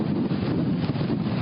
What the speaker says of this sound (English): there goes another big gust